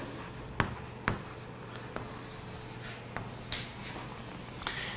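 Someone writes during a chemistry lesson on surface chemistry. Steady, faint scratching strokes are broken by a few distinct taps of the writing tool, over a low room hum, with no speech.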